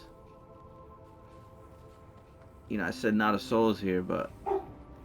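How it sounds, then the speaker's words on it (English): A dog barks several times nearby in quick succession, sharp and loud, right after someone speaks indoors over a low steady hum. "my dog is here."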